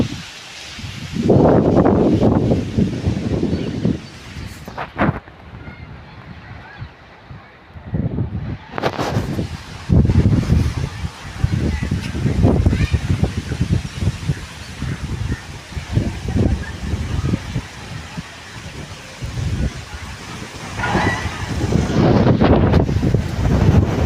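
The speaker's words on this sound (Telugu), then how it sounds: "గాలి మామూలుగా రాలేదు" Strong wind buffets the microphone in loud, gusty roaring bursts that surge and ease over about twenty-four seconds during a storm near Polavaram, with rustling and brief pauses between the heaviest blasts.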